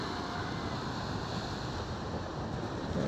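Waves washing onto the beach shore at Bucana, a steady broadband surf roar mixed with wind buffeting the microphone, continuous and fairly close with no talk.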